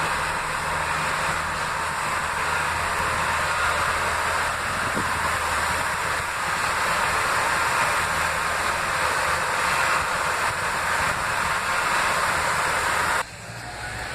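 A train passes on a rail line, heard as a steady, loud, broad rumbling roar that holds for about fourteen seconds before cutting off abruptly.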